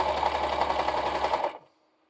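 Sewing machine running steadily as it stitches a blind hem along curtain fabric, a close, continuous whirring drone that holds for about a second and a half before stopping abruptly.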